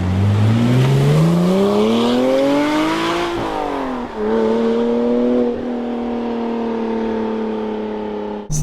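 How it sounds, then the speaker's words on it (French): A Porsche Cayman R's naturally aspirated engine revs hard and loud up through the range, dips briefly at a shift, then climbs again and holds a high, steady drone, with no talk over it. "c'est la bande son du moteur atmosphérique"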